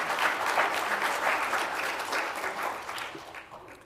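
An audience at a programming conference talk gives a full round of applause, a dense, even patter of many hands that holds steady and then begins to thin toward the end, with no voices over it.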